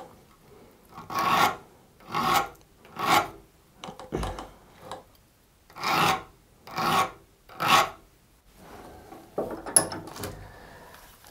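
Hand file rasping across the teeth of a Stihl GTA 26 saw chain, with repeated short scraping strokes in bursts of two or three, close and crisp, separated by brief pauses.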